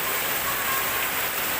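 Steady, dense rain pouring down outdoors as children run and bathe in it, a loud continuous hiss with no break, close and alone without voices.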